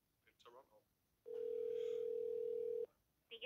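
Telephone ringing tone heard while calling a Japanese restaurant in Toronto: one steady, sustained electronic tone lasting about a second and a half, with short snippets of speech before and after it.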